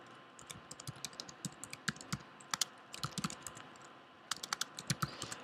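Computer keyboard being typed on while writing code, a quiet, close run of irregular key clicks in quick bursts with a few short pauses, no voices.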